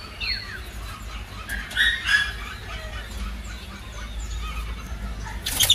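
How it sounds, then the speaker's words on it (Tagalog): Young fledgling birds at a nesting spot give short chirps and squeaky calls, scattered and moderately near, with a louder burst around the middle and more at the end. A steady low background hum sits underneath. "ayan yung mga young flight bird natin"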